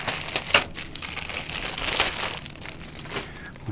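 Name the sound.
handling resealable Takom plastic parts bag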